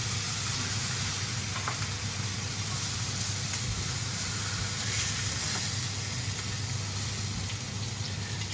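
Pork chops sizzle in a frying pan with a steady, even hiss and crackle, close and unbroken throughout, with no one speaking.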